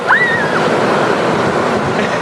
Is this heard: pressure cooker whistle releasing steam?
no